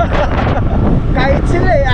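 Strong sandstorm wind roars and buffets a microphone at the Al Qudra cycling track in Dubai, loud and continuous, while a person talks over it.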